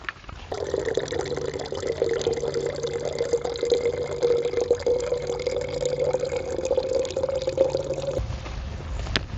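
Water being collected from a lake at a camp, a steady close wash of splashing and filling that runs for about eight seconds before cutting off, with no talking.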